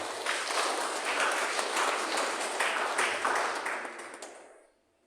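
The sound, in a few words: church congregation clapping hands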